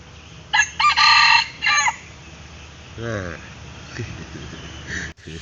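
A rooster crows once near the start, loud and close, with softer clucks from other fowl afterward and someone speaking quietly nearby.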